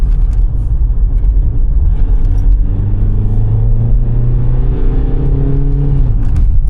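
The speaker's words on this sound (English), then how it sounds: "let me just give it some gas and let's hear this diesel" A diesel car engine with half a million kilometers on it revs up loudly and close, its deep rumbling pitch climbing steadily as the car accelerates, then shifting and rising again.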